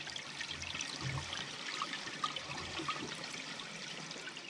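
A household toilet flushes, its water rushing and trickling steadily as the bowl drains, with a blockage of toilet paper caught in the drain; the watery noise is fairly quiet and continuous, with no one speaking.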